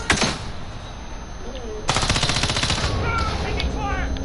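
Rapid automatic gunfire from a Call of Duty Warzone team deathmatch, one sharp shot at the start and then a dense, loud stream of bursts over the final two seconds, with faint game voice chatter underneath.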